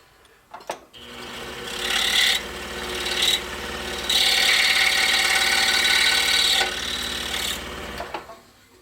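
A powered saw buzzes steadily while cutting the last small corner out of a wooden dado for a toy helicopter, running in several sustained stretches broken by brief pauses, loud and close.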